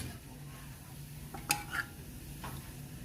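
Curd being stirred into raita for dahi bhalle makes a quiet, soft scraping and stirring, with a couple of brief spoon clinks against the bowl in the middle over low background hum.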